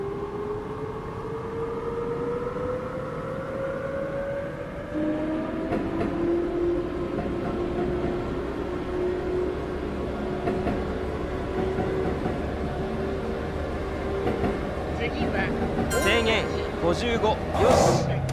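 A train pulls away from Gotanda station on the Yamanote line in the Densha de GO video game, with a steady rumble and a motor whine that rises in pitch. Voices and announcements run over it throughout.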